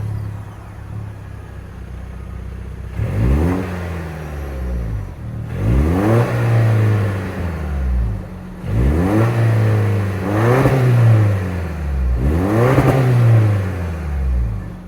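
Turbocharged 2.4-liter four-cylinder in a 2024 Toyota Tacoma SR5 revved four times in steady succession, each rise climbing and falling back to a loud close idle, with no talk over it.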